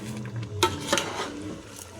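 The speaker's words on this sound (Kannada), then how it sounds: "ಅಕ್ಕಿನ ಹಾಕಿ ಇವಾಗ ಚೆನ್ನಾಗಿ ಮಿಕ್ಸ್ ಮಾಡ್ಕೊಳ್ಳೋಣ" Rice being stirred into a pot while making a large batch of chicken biryani, with close, irregular metal scrapes and clinks of a spoon against the pot over steady cooking noise.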